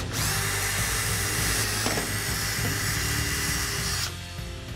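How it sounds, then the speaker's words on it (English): A power drill bores steadily into a replacement cross member panel on a 1965-1966 Ford Mustang, a continuous high whine for about four seconds before cutting off, close and alone. "Since it's a replacement panel, there is no holder, so we're going to drill it first."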